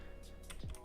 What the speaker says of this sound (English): You guys hear the mechanical keyboard?